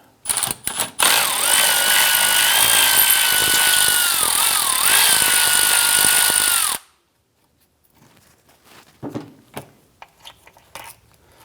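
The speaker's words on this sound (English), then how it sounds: "Go ahead and use a 10mm socket to remove this bolt." A power tool spins a 10mm socket to back out a bolt on the rear exhaust manifold catalytic converter assembly of a 2004-2008 Acura, a loud steady whirring for about six seconds before cutting off, followed by faint scattered clinks.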